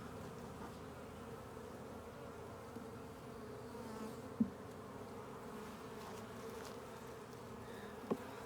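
Honey bees swarm and drone around a hive while a swarm is being installed. The buzz is a steady, dense hum that holds throughout, with a couple of sharp clicks near the middle and end.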